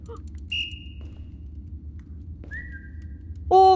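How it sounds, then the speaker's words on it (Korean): Two separate whistled tones sound during a nighttime dare test, each a sustained pitch that slides slightly. The first is steady and moderately loud, and the second is higher and thinner, both over a low background rumble. A brief sharp squeal closes the passage. "오 휘파람 소리 바뀌었어"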